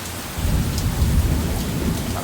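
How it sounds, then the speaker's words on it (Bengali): Heavy rain pours steadily in a dense, loud wash, with a low rumble of thunder rolling underneath throughout; no voices. "অসাধারণ বৃষ্টি হচ্ছে"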